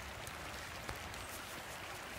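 Steady rain falls outdoors as a continuous soft hiss with scattered faint drops, no voices.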